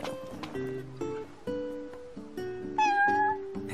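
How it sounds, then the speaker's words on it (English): A cat meows repeatedly in Final Fantasy 15, several drawn-out mews over a soft game backdrop, with a brighter, louder meow near the end. "There's a cat."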